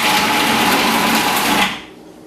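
A food processor shredding cheddar cheese whirs with a loud, steady high-pitched motor buzz, close by, then winds down abruptly near the end, leaving quiet.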